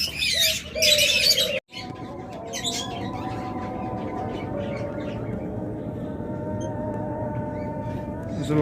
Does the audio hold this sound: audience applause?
no